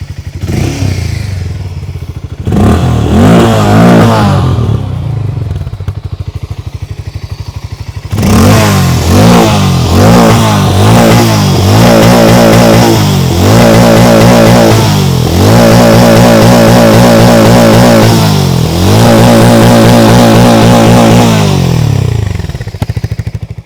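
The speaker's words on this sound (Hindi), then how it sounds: "ये जो एग्जॉस्ट नोट आपने सुना ना" Hero Mavrick 440 motorcycle exhaust, loud and close: a short idle, then a run of repeated sharp throttle revs that rise and drop, with clattering mechanical thumps between them and no talk.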